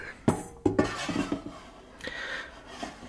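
Power XL air fryer basket slid back into the machine with part-cooked chicken wings inside, giving a few sharp metallic clanks and rattles up close, followed by lighter knocks as it settles.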